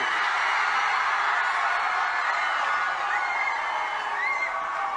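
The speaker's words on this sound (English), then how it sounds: "That sounds like a big crowd of beautiful people." A large crowd of about 4,000 students cheering, a dense, sustained roar of voices with whoops and shouts blending into a continuous wash, fairly distant and steady throughout.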